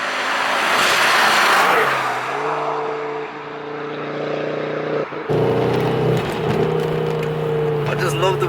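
Modified Ford Focus RS Mk2 with over 400 bhp accelerating hard, its engine note climbing through steady harmonics before a sharp exhaust pop and a hiss from the recirculation valve, loud and close.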